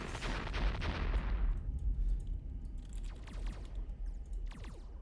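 Ship turrets firing in the Roblox space game Galaxy on the Lucifer supercapital: a rapid burst of heavy shots that fades out, then quieter sharp clicking salvos with high metallic pings, fairly faint and without talk.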